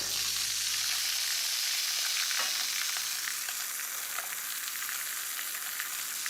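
Lamb loin chops sear in a hot pan beside a slowly reducing red wine sauce, giving a steady, loud sizzle and crackle throughout with faint pops, close up and with no talking.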